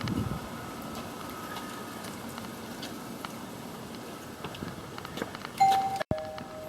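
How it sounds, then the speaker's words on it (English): A short electronic doorbell chime rings out near the end in a remodelled house, sounding over a quiet background of faint rustling and room noise, then cuts off abruptly. "Doorbell works."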